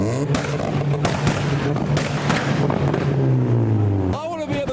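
A Mazda MX-5 at a modified car meet revs hard and loud nearby, its exhaust firing sharp pops and bangs that echo, while people talk over the engine noise.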